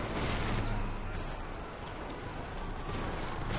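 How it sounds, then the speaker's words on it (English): Dense, continuous volleys of gunfire and explosions in the game Prototype, a steady loud barrage of overlapping blasts and shots with no clear pauses. "Oh man, rando explosions everywhere."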